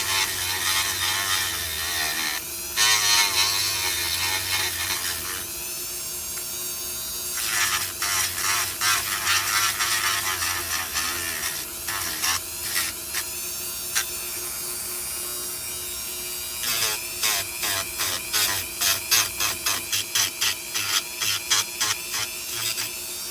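A rotary tool grinds rust holes into a model car body, a steady high whine that keeps running while the bit moves in circles, broken by rapid chattering bursts as it bites the surface.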